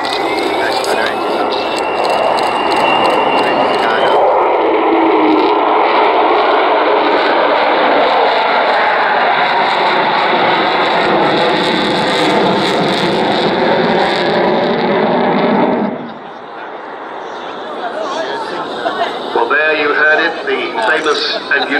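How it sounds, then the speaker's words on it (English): Avro Vulcan XH558, a delta-winged aircraft with four Rolls-Royce Bristol Olympus 202 turbojets, makes a flypast at the Dunsfold air display. A loud, sustained roaring howl persists for long seconds, then drops off sharply, with a commentator speaking over it. "And unique Vulcan howl. We may hear another one later in the display, coming from those 4 Rolls-Royce Bristol Olympus 202 turbojets"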